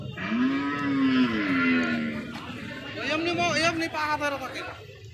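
Cattle moo loudly and close by at a cattle market in Bangladesh, two long drawn-out lows in succession, with a busy background of voices and farmyard noise.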